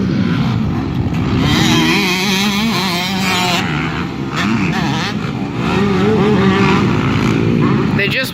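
A KTM motocross bike rounds a turn during practice at Evergreen Speedway on a freshly watered but dusty track, its engine a steady loud drone with rising revs, heard under continuous nearby talk.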